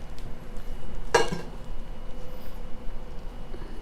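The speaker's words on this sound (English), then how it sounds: "We're just going to stir it around until it's combined." A spoon stirs wet and dry ingredients together for pumpkin coffeecake batter in a bowl, with one sharp clink against the side followed by quiet, soft scraping and mixing, with no talking.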